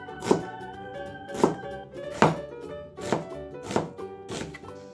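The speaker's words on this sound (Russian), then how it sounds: "1 красный лук нарезаем полукольцами." A knife chops a red onion into half rings on a board, six distinct thunks at a steady, unhurried pace, close and clear with no talking.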